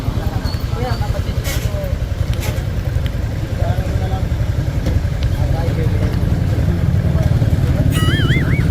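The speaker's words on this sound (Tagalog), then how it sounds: "Ganda ng motor, ah." A motorcycle engine runs steadily close by, a continuous low rumbling idle with slight revving that holds for the whole stretch, with faint background noise and a brief high electronic tone near the end.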